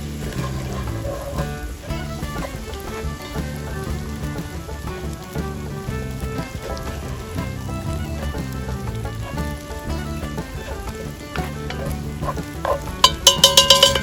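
Browned meat sizzling in a Dutch oven as flour is stirred in, a continuous close crackle with scraping stir strokes and a few sharper clinks near the end, with no talking.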